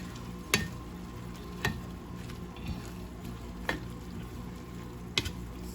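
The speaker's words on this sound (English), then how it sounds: "Okay, now I can hear it cooking now." A pan of spinach, basil, garlic and tomato pasta sizzles and fries steadily up close, with several sharp scraping stirs of a utensil breaking through the constant crackle at irregular intervals.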